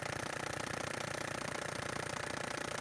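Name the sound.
old motorcycle engine running during paint remover flush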